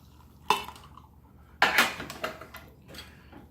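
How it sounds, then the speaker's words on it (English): A spoon clinks against a cup while stirring water into a powdered milk drink from a Russian RPMK six-man ration, producing two sharp metallic knocks followed by a few lighter scraping taps, close and fairly loud. "Give it a stir."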